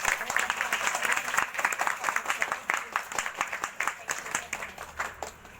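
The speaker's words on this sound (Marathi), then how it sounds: "त्यांच्यासाठी आपण भरपूर टाळ्या वाजवायच्या खूप" Audience at a women's forum event in Udhna, Surat, bursts into applause for a teacher and writing-contest winner, a steady wash of many hands clapping throughout with no voices over it.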